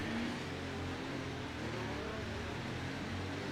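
F1 race car engine in the F1 24 video game, a steady droning hum held at constant pitch across the few seconds, moderately loud with no gear shifts and no voices.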